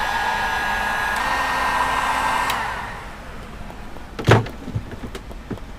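A heat gun or hair dryer blows steadily for about two and a half seconds to shrink clear heat-shrink tubing over a cable label, then cuts out, leaving a few light knocks and handling clicks nearby.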